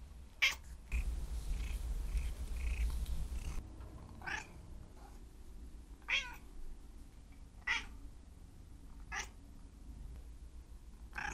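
An indoor cat meows in a series of short, separate calls spaced a second or two apart, close and clear, over a faint soft purring and quiet room background.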